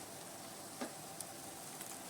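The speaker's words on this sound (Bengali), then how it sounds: "এবার একটা বড় পেঁয়াজ কুচি দিয়ে দিলাম এবার এটা একটু ভাজা ভাজা হয়ে গেলে সব সবজিগুলো দিয়ে দেবো" Chopped onion, carrot and capsicum frying in oil in a pan over a low flame for masala noodles, a faint, steady sizzle with a few small ticks and spatters.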